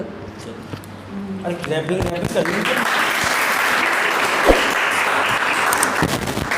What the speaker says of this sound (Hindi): जो हमारी ऑडियंस है तालियां बजा करके इस बात को शो करने की कोशिश कर रही है कि आपके जवाब से ये लोग सेटिस्फाइड हैं।